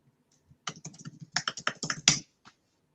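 A sudo yum update command typed on a computer keyboard: quick, close clicking keystrokes in uneven bursts, finishing with a louder key press and a couple of isolated taps, with no talking.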